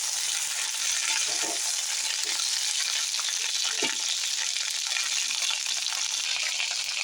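Okra frying in a pan, a steady bright sizzle throughout with soft occasional stirring scrapes, close and continuous with no talk.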